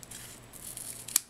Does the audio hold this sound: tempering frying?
no